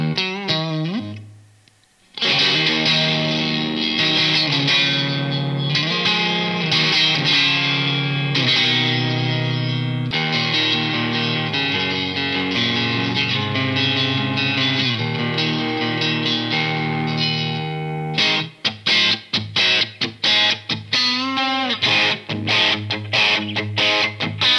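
Electric guitar played through a Pro Co Lil' Rat mini distortion pedal with the distortion knob set low, giving loud, continuous overdriven chords and riffs with a short pause early, then choppy staccato strums near the end.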